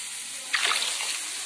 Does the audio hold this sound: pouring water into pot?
yes